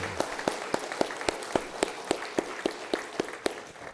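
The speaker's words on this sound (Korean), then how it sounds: "하나님께 감사 박수 한번 올리실까요?" Church congregation clapping together in a slow, steady unison beat, about four claps per second's span of two, crisp and moderately close with a faint room murmur beneath.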